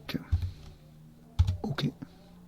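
Computer keyboard typing while working in an Excel spreadsheet, scattered clicky keystrokes in two short bursts, close and fairly clear, with a quiet gap between them.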